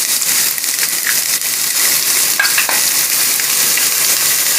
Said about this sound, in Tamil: வெங்காயத்தை வசக்க போகிறோம்.